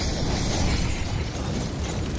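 A molotov burning in Counter-Strike on the Overpass map, heard as a loud, dense crackling whoosh of fire that stays constant and close, with no voices.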